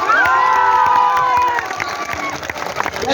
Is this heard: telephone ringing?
no